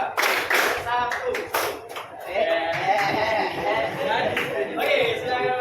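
Clapping game in a classroom, a group of students clapping hands in a short burst of rhythmic claps, then a longer stretch of mixed clapping and chatter, with voices talking throughout.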